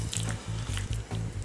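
Butter mixture squeezed from a ziploc piping bag into a slot cut in raw chicken for chicken Kiev, close wet squishing bursts in a quick irregular series of about six.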